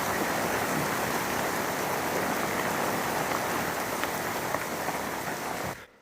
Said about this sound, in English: You can see clearly here how the rain is coming down.